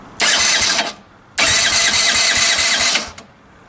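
A 1986 Yamaha Moto-4 80cc engine is cranked twice, with a short starter burst and then a longer one. Each is a loud, rapidly pulsing churn that stops abruptly without catching into a steady idle.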